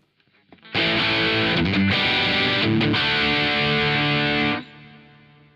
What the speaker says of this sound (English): The next mode is the distortion mode, and it should sound similar to the Boss DS1 pedal.